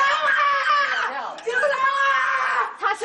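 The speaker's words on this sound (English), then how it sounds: "You can hear this woman screaming." A woman screams and wails in distress, her high strained voice rising and breaking in long cries across the recording with only brief pauses.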